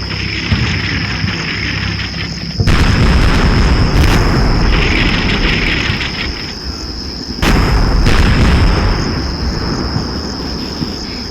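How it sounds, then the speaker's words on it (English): Artillery shells land in a British-module scenario of Combat Mission: Shock Force, with two heavy rumbling blasts a few seconds apart, loud and close, over a steady high insect-like hum. "So as the artillery is landing"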